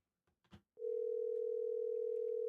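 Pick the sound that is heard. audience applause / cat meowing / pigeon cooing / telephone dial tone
telephone dial tone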